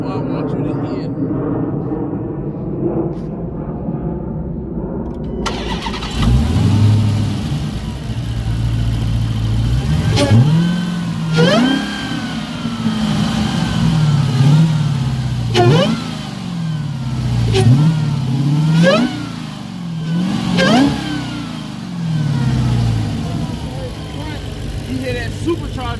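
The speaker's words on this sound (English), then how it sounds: "the motor and the exhaust combined, that's what I want you to hear." A Dodge Challenger Hellcat's big supercharged American V8 and exhaust rev up after a quiet start, with a series of loud, close throttle blips that rise and fall roughly every two seconds.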